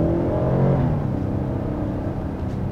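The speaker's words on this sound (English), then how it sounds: "you can really just appreciate that V6 engine and its smoothness" Kia Telluride 3.8-liter V6 accelerating, a smooth, steady engine hum and whir heard from the cabin, moderately loud with a gradual pitch shift and no speech.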